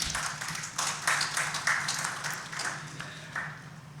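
An audience at a book launch ceremony in Sambhal claps, a faint, scattered patter of hands that swells and fades over a few seconds.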